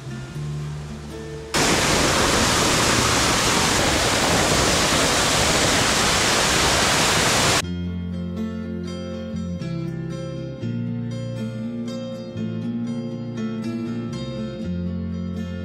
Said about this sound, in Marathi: नानी धबधबा थेट डोळ्यांसमोर पडताना दिसतो.